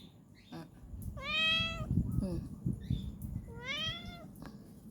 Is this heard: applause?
no